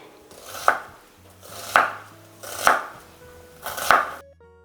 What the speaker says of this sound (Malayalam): ഇനി സവാളയും അതുപോലെ തന്നെ ഉരുളക്കിഴങ്ങും ഒന്ന് കട്ട് ചെയ്യാണ്.